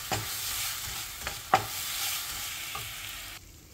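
A sweet binding mixture is stirred by hand in a bowl, giving steady scraping and swishing strokes with a few sharper knocks against the side, close up and fairly quiet, with no talking.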